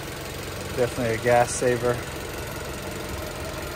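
A 2016 Jeep Renegade with a 2.4-liter four-cylinder engine idles with a low, smooth, even hum beneath a man's brief speech.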